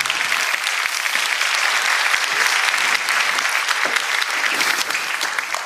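Loud, sustained audience applause on the set of a TV game show as contestants are called to the playing table, dense clapping with no talking over it.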